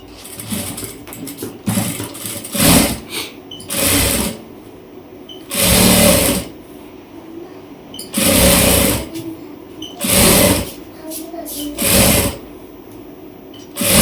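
A sewing machine stitches a blouse collar in repeated bursts of rapid whirring separated by short pauses, close and clear.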